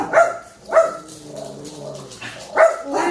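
A dog barks at something outside, several sharp separate barks close by, spaced irregularly with short pauses between them.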